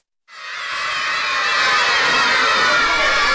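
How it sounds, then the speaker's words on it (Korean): Crowd of schoolchildren in a Chittagong village cheering and shouting together, a loud, sustained high-pitched roar that rises abruptly and holds steady with no pauses. "아이들이 환호성을 지르는 건 바로 우유 때문인데요"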